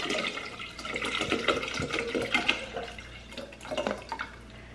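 Water pours steadily into a 40-ounce Stanley cup, a continuous close splashing and gurgling stream with no voices.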